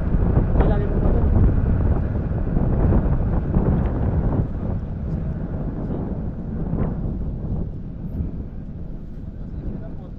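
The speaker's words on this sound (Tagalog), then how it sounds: "Pasensya na po, medyo mahangin." Strong wind buffets the microphone outdoors while bamboo is being handled, a continuous low roaring rumble that fills the whole clip and eases slightly toward the end.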